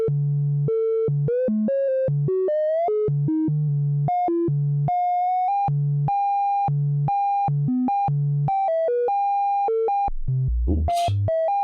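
Random synthesized sci-fi computer beeps from a VCV Rack modular patch jump between pitches in a quick, irregular sequence of clean tones, ending with a short noisy burst.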